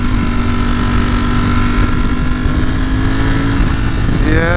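A Ducati Panigale V4S motorcycle being ridden gives a loud, steady engine drone with wind roar, its pitch climbing sharply near the end as the engine revs up.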